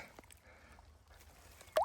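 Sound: fish released back into the river water

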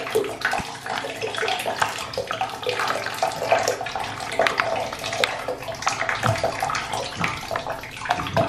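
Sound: melting gallium popping

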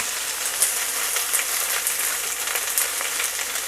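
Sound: vegetables frying in a pan

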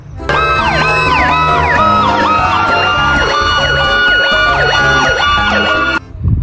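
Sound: toy fire truck siren

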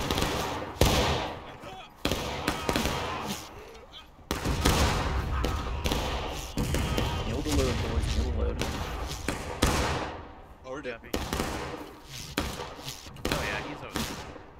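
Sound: musket volley fire in the video game War of Rights

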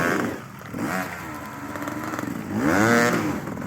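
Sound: motorcycle engine revving on spring off-road ride

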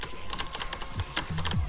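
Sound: computer keyboard keys being pressed while playing a game

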